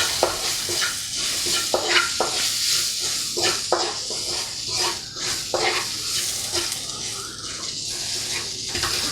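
Serundeng is stirred in a hot pan with lemongrass and kaffir lime leaves: repeated scraping spatula strokes over a continuous frying sizzle, close and fairly loud.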